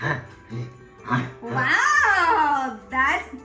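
A young girl imitates a reindeer's grunting call with her voice, a few short grunts that swell into a long rising and falling vocal sound, close and clear.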